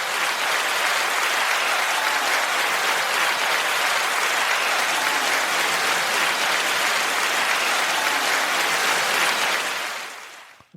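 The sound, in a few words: applause, clapping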